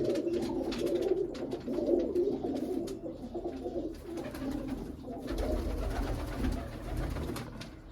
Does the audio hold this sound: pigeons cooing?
yes